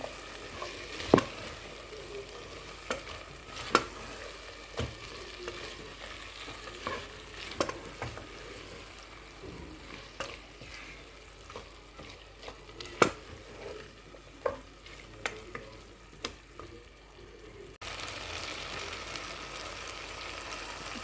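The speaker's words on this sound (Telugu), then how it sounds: "ఒక్క నిమిషం పాటు ఈ చోళీకి మసాలా అంతా పట్టేదాకా తిప్పుతూ ఉండండి" Chickpeas for chole stirred in a frying masala in a pan, with a spoon scraping and tapping at a steady, unhurried rhythm over a quiet sizzle, close by, ending in a brief burst of louder hiss.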